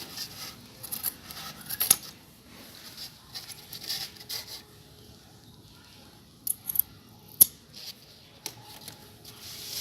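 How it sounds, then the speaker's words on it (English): Scissors snip through doll dress fabric at the corners, a few faint, quiet cuts spread across an otherwise hushed stretch. "Now when we are done, cut these corners."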